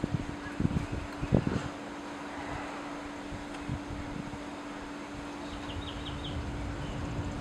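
Steady wind blows through a tornado-warned storm near St. Augustine, Florida, a continuous broadband rush, with a few brief knocks near the start.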